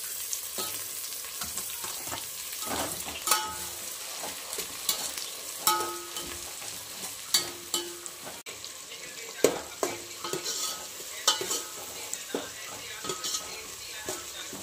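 Onion and tomato frying in a pan for egg biryani, a steady soft sizzle under repeated spoon stirs and scrapes, close but fairly quiet, with a little water running in the background.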